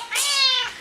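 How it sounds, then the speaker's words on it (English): A cat gives a single clear, drawn-out meow lasting under a second, close and fairly loud, with no other sound around it. "Daniel, can you bring me the kitty?"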